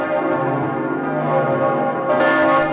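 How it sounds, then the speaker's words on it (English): The church bells of Notre Dame cathedral in Paris ring loudly and steadily, a dense, sustained mass of overlapping tones with a fresh strike near the end. "In September, Notre Dame finally got its bells back when 8 of them returned to the North Tower."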